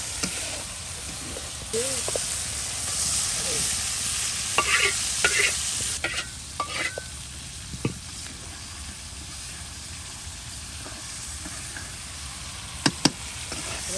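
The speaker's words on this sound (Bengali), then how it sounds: "এই যে দেখুন কত সুন্দর করে আপনার মশলাটা কষানো হচ্ছে, একদম ভাজা ভাজা করে নেওয়া হচ্ছে" Spice paste for meat bhuna fries with a constant crackling sizzle while a spoon scrapes and stirs it, with occasional sharp knocks against the pan.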